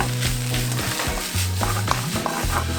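Kimchi cheese fried rice is stirred around a hot pan, giving a continuous close sizzle broken by scraping stir strokes, with a steady low hum underneath and no speech.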